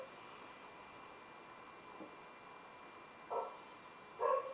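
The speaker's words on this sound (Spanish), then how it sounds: "Perdone, mis perritos están ladrando." Small pet dogs bark from another room of a home, two quick faint outbursts near the end, distant and muffled beneath a steady background hiss.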